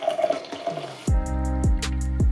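A mixture is poured into about 100 ml of decaf coffee. After soft clinks and handling, a liquid stream gurgles and splashes into a cup, with rising bubbly pulses.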